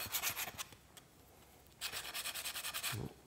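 Hand file rasping back and forth across the cut end of an aluminum bracket to remove burrs, a few quick close strokes in two short bursts with a pause between, no talking.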